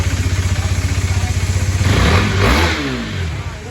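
A repaired KTM Duke 390 single-cylinder engine catches and idles with a rapid, even loping thump, then revs up in a loud swelling roar before settling back, close and alone.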